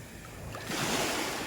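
Soft wash of calm sea waves on the shore, a low steady rush that swells slightly louder partway through, fairly faint and without voices.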